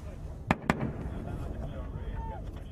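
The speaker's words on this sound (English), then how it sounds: "Mortars land just yards away." Mortar rounds burst nearby during a firefight in Afghanistan. Two sharp blasts come close together, with a fainter thud after them, over background rumble and muffled voices.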